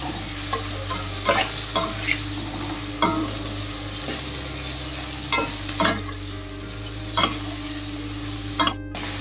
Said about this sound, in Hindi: अब इसे 5 मिनट चला लेना है